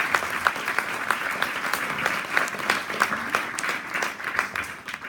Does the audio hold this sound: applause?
yes